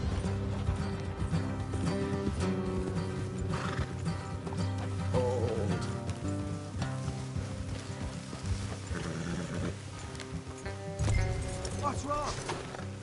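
Horses' hooves clip-clop in the Red Dead Redemption 2 game world on PS4, with occasional neighs, steady throughout under a dense bed of game music and ambience, alongside spoken dialogue.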